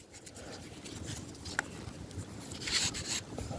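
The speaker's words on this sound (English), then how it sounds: "So you scrape and scrape until you feel like it's clean enough." A hand-carved wooden scraper rasps quietly and steadily in repeated close strokes, a soft gritty scratching with no talk.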